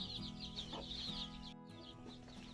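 A mother hen clucks quietly among her chicks, whose high cheeping runs continuously over the low clucking; the whole scene is faint and close, with no voices.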